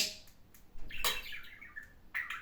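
Pet bird in a home kitchen squawking and chirping in a few short, sharp bursts, fairly faint and heard alone in a quiet room.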